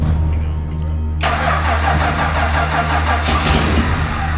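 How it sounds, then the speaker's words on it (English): An old car with fuel freshly poured into the carburetor bowl cranks briefly and then catches, its engine firing up and running loudly and roughly close by. "We gotta give this thing a crank."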